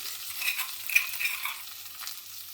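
Crushed garlic and chili hit hot oil over a high flame, giving a soft, crackly sizzle with a few sharper pops, fairly close but modest in level, lasting a couple of seconds.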